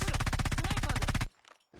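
Rapid gunfire from a sniper in a video game, a fast burst of evenly spaced shots lasting just over a second, then abruptly cut to near silence.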